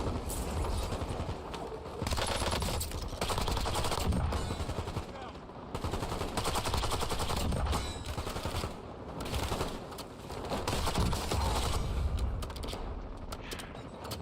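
Gunfire from a weapon in the shooter game Warzone rattles in long dense bursts of rapid shots, loud and near, broken by brief lulls, with some game noise mixed in.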